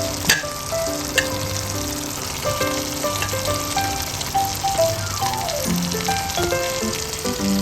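Fish cooking on a tawa in a home kitchen gives a continuous, close sizzle with light crackles throughout, under steady background music and without talking.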